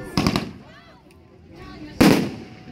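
Two loud, sharp firework shots from a Red Apple Meteor Gun 500g cake, spaced about two seconds apart, each trailing off in a long outdoor echo.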